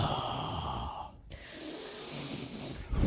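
Breathing directly into a microphone: a long close exhale, a sharp snort-like inhale, then another drawn-out breath, loud and intimate with no talk.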